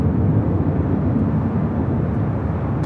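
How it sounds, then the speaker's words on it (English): A Boeing 787-9 Dreamliner airliner at LAX produces a steady, loud broadband engine roar that holds evenly for a few seconds without any talk. "787-9 Dreamliner next up."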